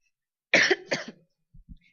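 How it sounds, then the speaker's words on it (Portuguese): Two sharp, close coughs in quick succession during a meeting, followed by a couple of faint soft throat sounds, in an otherwise quiet room. "desculpem a tosse"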